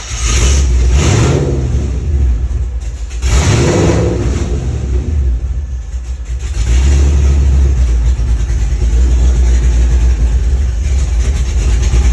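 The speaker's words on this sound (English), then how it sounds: "Give it a bit of throttle." A car engine with a starting problem revs hard under the throttle in loud repeated surges, rising and falling with short dips between them, then settles into a steady, heavy roar close to the microphone.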